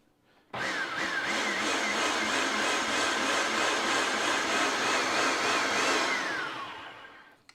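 Flour, sugar, salt and baking powder mixed in a covered container for fried pie dough, a loud steady whirring churn that starts abruptly, holds for about six seconds and then fades away, with no talking.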